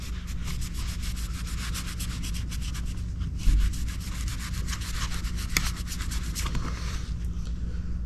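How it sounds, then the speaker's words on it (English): A microfiber rag rubs back and forth over the frets of a Fender Squier Telecaster neck, a steady, close, dry scrubbing with a faint rhythmic rasp and no talk. "Take the other side of the microfiber, dry her up a little bit."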